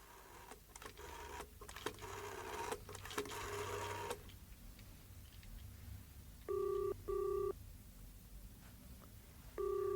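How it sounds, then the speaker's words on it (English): A telephone rings in a radio drama, sounding in short doubled bursts in the second half after a stretch of rustling and clatter, then starting again right at the end. "there's your phone in action again"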